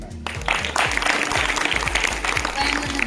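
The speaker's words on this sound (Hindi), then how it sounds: "उसके लिए ताली हो जाए" Children in a school audience clap for a new teacher on International Yoga Day, a lively, uneven patter with a rhythmic thumping beat underneath and voices mixed in.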